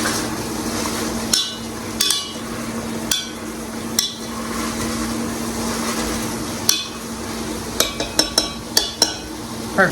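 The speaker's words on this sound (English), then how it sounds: "So we're just going in and pressing down to break apart the larger chunks of pork." Potato masher pressing down on chunks of cooked pork in a pot, giving a series of sharp metallic knocks and clinks against a steady background hum, spaced irregularly and clustering near the end.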